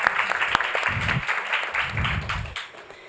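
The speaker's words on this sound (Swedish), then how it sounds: "En stor applåd tycker jag vi börjar med." Applause from a conference audience at a Swedish business event on innovative, profitable and gender-equal companies, a dense patter of claps with a few low murmurs underneath, steady for about three seconds before thinning out.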